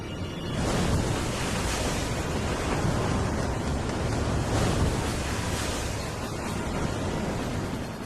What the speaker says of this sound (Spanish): Hombres, animales y plantas sufren la violencia del viento y del mar.